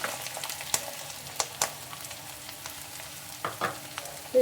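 Green chillies and chopped onions frying in a pan, a soft steady sizzle broken by several sharp scraping clicks of a spoon stirring against the pan.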